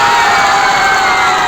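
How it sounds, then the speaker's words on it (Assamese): Loud crowd cheering and clapping at an Assamese election rally, a dense roar of many voices with whoops mixed into the clapping, close and sustained throughout. "আপোনালোকৰ পৰা মই শেষৰবাৰে এটা জোৰছে হাত চাপৰি বিচাৰিছোঁ"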